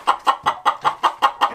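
A hen at the nesting boxes clucks in a steady, rapid series of about nine close, evenly spaced notes, loud and alone.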